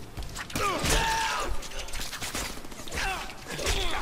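Gunfire rattles in the Deadpool video game, sharp bursts of shots cracking out around 0.5, 1.5 and 3 seconds, mixed with clanking mechanical effects and a short gasping voice.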